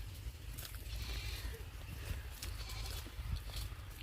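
Goats bleat in a farm field, a steady rural bed of bleats and low rumbling noise running throughout, moderately near with no clear talk.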